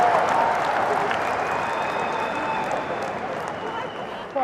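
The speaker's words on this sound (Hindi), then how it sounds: "ठोको ठोको ताड़ी ठोको" Crowd applause at a political rally, a dense steady wash of clapping that gradually fades over a few seconds, heard at a distance without clear speech on top.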